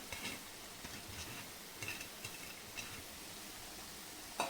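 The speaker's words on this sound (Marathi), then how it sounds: "मेथी कांद्यामध्ये छान परतून घेतली आहे" Fenugreek leaves stirred through onion, potato and peas in a pan, with soft scraping strokes over a faint low sizzle, a few light spoon taps, quiet and steady throughout.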